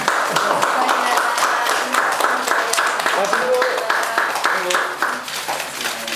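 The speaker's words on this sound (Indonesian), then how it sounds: "Tepuk tangan." Steady applause and clapping from a talk show audience welcoming a singer, continuous and fairly loud, with a voice talking over it.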